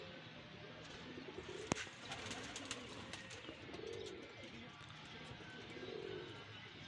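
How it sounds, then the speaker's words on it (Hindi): A pair of Sialkoti pearl pigeons gives soft, low cooing calls, twice in a faint rolling pattern, under steady background noise with a brief sharp click. "ये देख ले माशाल्लाह, सियालकोटी मोतियों वाला कबूतर है ये।"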